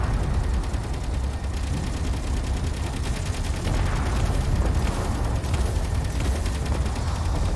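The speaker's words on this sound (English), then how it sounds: "Turrets engage." Turrets on a ship in the space combat game Space Engineers fire continuously, a loud dense rattle of rapid shots over deep rumbling impacts that never lets up.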